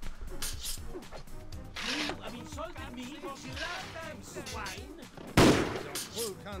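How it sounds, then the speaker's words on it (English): Pirates of the Caribbean: New Horizons gameplay with sharp gunshots fired in short bursts under an ongoing game soundscape, one loud close blast standing out near the end. "Stop shooting me, that's rude."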